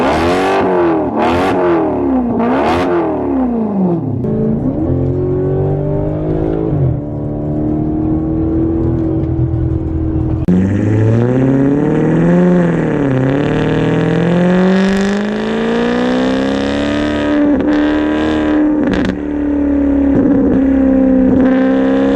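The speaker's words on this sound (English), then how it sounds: "The straight piped Maserati GT" Straight-piped Maserati GT exhaust revving hard, loud rising and falling engine howls with sharp blips, then sustained high revs and a long climbing pull, no talking.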